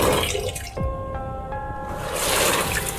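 In a game, water pours into a cleaning bucket, a short splash and trickle with a brief ringing, hollow tone as it fills.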